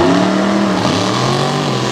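Monster trucks launching off the line side by side at Lake Erie Speedway, loud roaring engines revving and rising in pitch, close and intense throughout.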